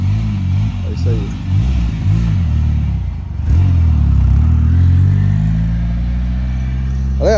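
A VW Gol 2.0 Turbo launches on a rural road, its engine revving in rising and falling bursts before a sustained loud acceleration drone, close by, with people talking.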